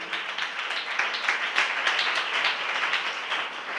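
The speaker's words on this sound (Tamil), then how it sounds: "தலைக்கு மேல் கூட கைத்தட்டி தேவனை மகிமைப்படுத்துங்களேன்." A church congregation claps their hands together, some raising them above their heads in praise. The clapping is dense and continuous, a whole room of hands beating at moderate loudness with no single clap standing out.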